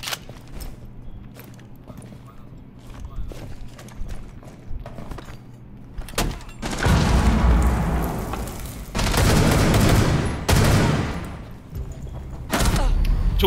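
Gunfire in a shooter video game comes in loud, dense bursts in the second half, with sustained volleys sounding like automatic fire separated by brief pauses over a quieter, busy background.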